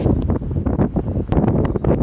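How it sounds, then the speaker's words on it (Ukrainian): Strong gusty wind over an open farm field, a loud continuous roaring rumble buffeting the microphone with rising and falling gusts. "обробляли ми в штурмовий вітер, який зараз дме"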